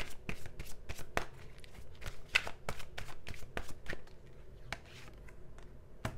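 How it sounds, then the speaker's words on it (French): Tarot cards are shuffled by hand close up, a rapid run of crisp riffles and soft slaps repeating steadily with no voice over them. "Je vais juste retirer une petite carte et puis après, on va regarder le message conseil."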